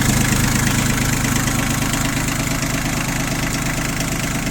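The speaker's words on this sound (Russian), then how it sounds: "Двигатель у нас здесь, как я уже сказал, 3-цилиндровый на механическом ТНВД. Работает, конечно, чуть жестче" A Yanmar YM1720D tractor's three-cylinder diesel with a mechanical injection pump idles close by, a steady, slightly harsh, knocking chug that stays even and loud for the whole stretch with no talk.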